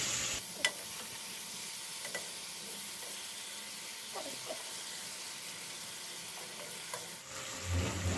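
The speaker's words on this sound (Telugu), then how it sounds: "చేపలు ఒకసారి మసాలాలో ఇలా తిప్పేస్తే" Fish pieces are stirred through masala in a hot pan, giving a steady frying sizzle and hiss with occasional soft scrapes and knocks of the utensil, close and without talk.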